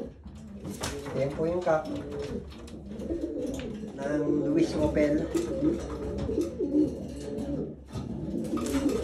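Pigeons cooing in a low, rolling rhythm close by, with a person talking over them throughout.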